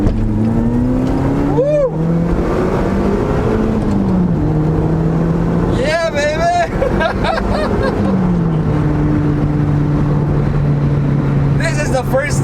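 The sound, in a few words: Lotus Elise Sprint Toyota engine accelerating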